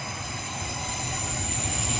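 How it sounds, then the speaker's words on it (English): A train rumbles past nearby outdoors on a morning walk, a steady broad roar with high rail whine that builds slightly over two seconds, no voices. "A train's gonna go past."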